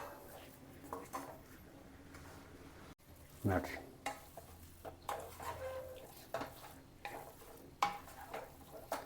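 Potato palya with seasoning being stirred in a pan: a spatula scrapes and clatters in repeated strokes over a faint sizzle, a sharp knock near the start, the strokes steady and close.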